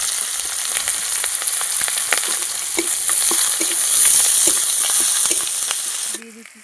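Chopped onion and slit green chilies fry in oil in a pan for a taro and potato fish curry, sizzling loudly and continuously with occasional stirring clicks before the sound drops away at the end.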